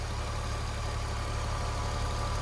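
A 2005 Porsche 911 997.1 engine idles steadily, a smooth, constant low rumble heard up close with no other sounds.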